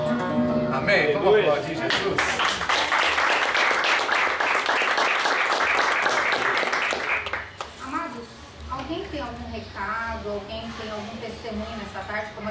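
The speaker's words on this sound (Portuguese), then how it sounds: "Vamos aplaudir Jesus." Applause from a church congregation during a worship service: a dense burst of clapping mixed with cheering voices, loud and close, then fading into a quieter stretch with voices and faint tonal sounds.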